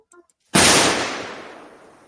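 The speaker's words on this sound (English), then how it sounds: "That was a real gunshot, it said." One very loud, sharp gunshot cracks suddenly and its long ringing decay fades over more than a second, after brief faint sounds beforehand.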